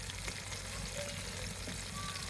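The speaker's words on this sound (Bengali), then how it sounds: "কড়াই তেল দিয়ে দিয়েছি, তেলে দিয়ে দিলাম পেঁয়াজ কুচি, টমেটো কুচি" Onion, tomato and ginger paste frying in oil in a wok for a spicy fish curry, giving a steady, close, continuous sizzle and crackle with no talking.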